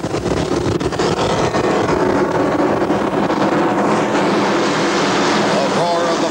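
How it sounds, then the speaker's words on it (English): Big Open Class 1 offshore racing powerboats roar off together at the start of a 208-mile race in 1981. Their engines make a dense, loud, steady rumble with wind buffeting the microphone and a voice talking over it. "The roar of the powerful engines as Open Class 1 starts out on their 208-mile speed journey"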